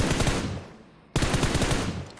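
An MG3 machine gun fires in PUBG Mobile, loud and rapid, in two sustained bursts separated by a brief pause, with no speech over them.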